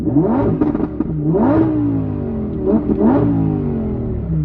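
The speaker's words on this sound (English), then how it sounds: "Let's go ahead and rev up the Evo." A 2020 Lamborghini Huracan Evo engine revs hard three times, each blip climbing sharply in pitch and then falling back to a loud idle, close and with no talk over it.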